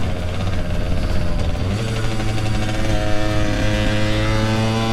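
A motorcycle engine drones loudly and continuously while riding in Oregon, its pitch climbing partway through as the rider accelerates, with no talking.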